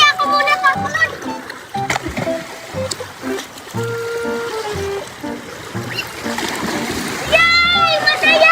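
Children jump into the sea one after another with loud splashes, shouting and chattering excitedly as water sprays around them.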